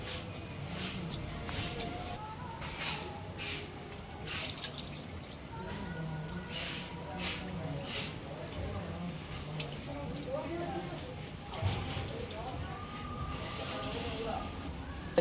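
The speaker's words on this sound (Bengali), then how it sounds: "বেশি ধোবো না একটু নাড়াচাড়া করে একবার মতো ধুয়ে নিয়ে" Rice is washed by hand in water, with soft sloshing and light dripping throughout, close and quiet, while someone talks over it.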